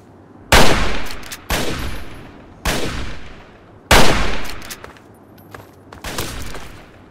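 Four heavy gunshots from a gun in Fallout 3, loud and close, spaced about a second apart, each sharp crack trailing off in a short echoing decay, with no talking.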